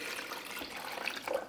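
Water pours into the reservoir of a Black + Decker 12-cup programmable coffee maker, a short close splashing trickle that runs for about a second and a half.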